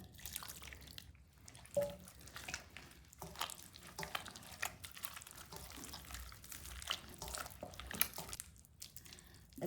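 Quiet wet dripping and trickling of water into a thick palmyra fruit paniyaram batter, with soft squishy stirring sounds throughout.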